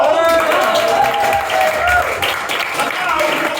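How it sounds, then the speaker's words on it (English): Audience clapping fills a live comedy show at the Nottingham Comedy Festival, a steady, dense wash of applause sustained throughout with no speech over it. "applause for these two people at the front who've been here all day long."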